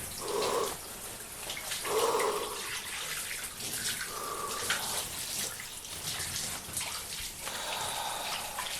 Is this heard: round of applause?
no